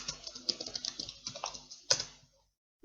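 Rapid keystrokes on a computer keyboard as a command is typed into Windows Command Prompt, a steady close clatter of key presses ending in a sharper press, then a near-silent pause and one last tap.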